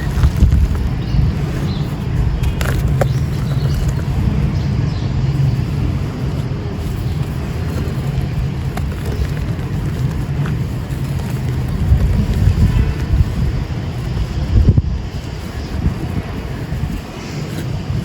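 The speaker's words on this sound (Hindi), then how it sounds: "हवा चल रही है।" Wind blows hard and steadily outdoors, buffeting the microphone with a continuous low rumbling roar that swells slightly now and then across the whole stretch.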